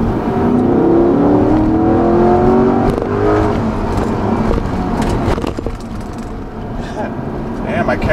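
Engine of a 2020 Chevrolet Corvette Stingray 1LT Convertible revving under throttle with traction control cutting in, a loud sustained drone rising in pitch then easing off, with wind and road noise behind.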